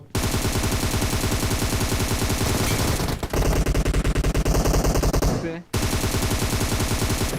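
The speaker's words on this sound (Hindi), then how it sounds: "आगे पे गोलियां चल रही होती है" Rapid automatic gunfire from the PUBG BGMI mobile battle game rattles continuously and loudly in dense bursts, with one brief pause before the shooting resumes.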